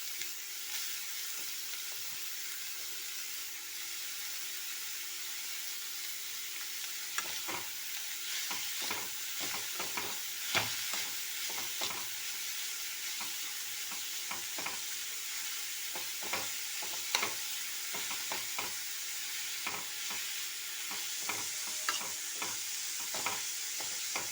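Shredded cabbage sizzles steadily in a frying pan while a spoon stirs it, adding scattered scraping clicks over the constant hiss throughout.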